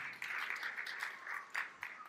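Church congregation clapping during a sermon, a faint, steady patter of applause with no voices.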